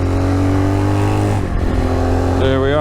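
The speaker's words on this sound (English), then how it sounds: "Let's go take it for a ride and see what it'll do. So even taking off third gear." A Magician 250 motorcycle pulls away in third gear on a test ride, its engine droning steadily and loud up close, then the pitch drops and climbs again as it shifts and accelerates.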